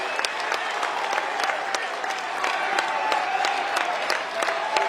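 A stadium crowd of Oklahoma State baseball fans at a 2019 NCAA regional in Oklahoma City applauds steadily, a dense, continuous clatter of many hands with a low murmur of cheering underneath.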